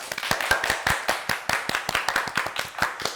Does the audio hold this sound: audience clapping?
yes